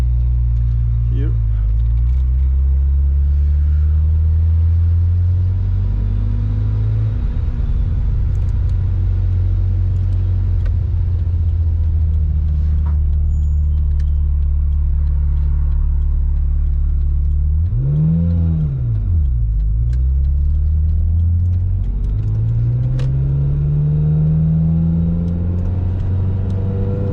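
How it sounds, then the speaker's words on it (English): Ferrari F355 Berlinetta with its 385-horsepower engine roars loudly from inside the cabin while driving, deep revs rising and falling with gear changes and a sharp rev swell midway, with someone talking over it. "As you can hear, the sound is really brutal. Well, it is an F355"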